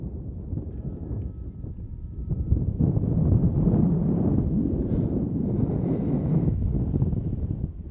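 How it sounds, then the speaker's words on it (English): Strong wind gusts roar across an outdoor high school boys' soccer field, a broad rumbling rush of wind buffeting the microphone that swells louder after a few seconds and stays heavy, with no talk. "that wind is amazing. It's got to add at least a 30-mile-an-hour gust."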